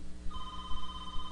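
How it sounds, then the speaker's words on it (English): A telephone rings with a steady electronic tone that starts a moment in and holds, fairly faint over a low background hum, with no one speaking. "That's the phone ringing right then."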